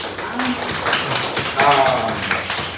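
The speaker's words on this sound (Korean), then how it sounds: "참 우리 그리스도 예수 안에서 한번 박수를 한번 쳐줍니다" A church congregation at a Sunday service claps together in a steady patter, with voices talking over the clapping throughout.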